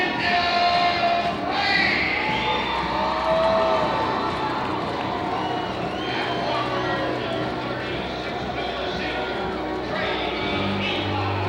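A gym crowd cheers during starting-lineup introductions at a boys' high school basketball game against Deer Park, a loud continuous roar of voices and whoops that carries through the whole stretch, with music and announcer-style talk mixed in.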